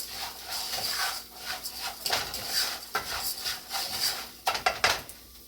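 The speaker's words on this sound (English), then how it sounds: "Stir a little, put a little bit more in there." A spoon stirs and scrapes rice in a pan, with clinking metal-on-pan strokes and soft scraping that come in uneven bursts, grow busier near the end, and stay close and fairly quiet with no talk.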